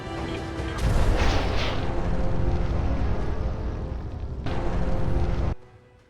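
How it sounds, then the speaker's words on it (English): A super mutant's bomb detonating in Fallout 4 produces a sudden loud roaring blast that rumbles on for several seconds, then a second burst before cutting off abruptly, with no voices. "a super mutant with a bomb kept blowing himself up and taking me with him"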